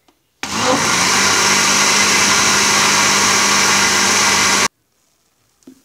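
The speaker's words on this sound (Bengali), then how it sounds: "এবার ব্লেন্ডারে আমি মিশ্রণটাকে কিছুক্ষণ ব্লেন্ড করে নিব" Electric blender whirring through an egg, milk and sugar pudding mixture, a loud steady motor roar that starts abruptly, holds evenly for about four seconds and then cuts off to near silence.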